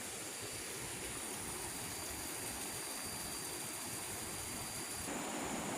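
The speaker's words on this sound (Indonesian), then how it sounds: "Ini ada sungai kecil ya di dekat batang air tadi." A small stream flows near a river, giving a steady, broad rush of water at moderate level that continues unbroken, with no voices.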